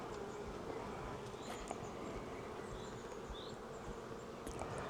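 Dense, steady buzzing of many honey bees at an open hive during a beekeeping inspection, a continuous close swarm drone with no talk.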